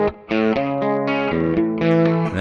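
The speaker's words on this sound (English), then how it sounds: "So it's just a clean preset with chorus." Electric guitar through a clean preset with chorus from a Mooer preamp playing a short melodic phrase of sustained, shimmering notes, close and clear with brief gaps between notes.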